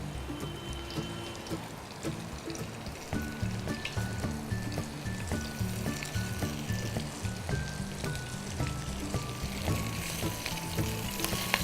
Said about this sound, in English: So gently place it on your frying pan.